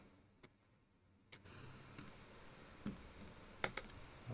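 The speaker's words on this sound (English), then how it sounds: "Last sound test, you know, since now my keyboard is connected" Typing on a QK80 mechanical keyboard during a Monkeytype test: quiet room at first, then a steady stream of soft clacking keystrokes with a few sharper, louder key hits.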